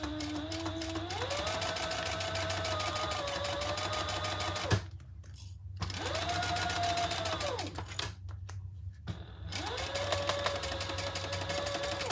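A domestic sewing machine stitching pieces of a Zara crossbody bag runs in three close, steady bursts of rapid whirring, separated by short pauses.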